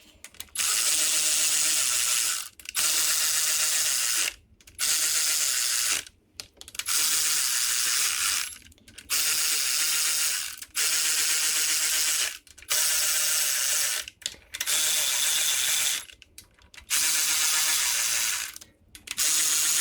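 Ratchet tightening valve cover bolts on a 2012 Honda Accord V6, heard as about ten loud, close bursts of rapid clicking separated by brief pauses, with no talk.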